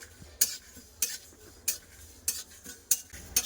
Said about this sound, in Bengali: এবার দিয়ে দিচ্ছি সাদা তিল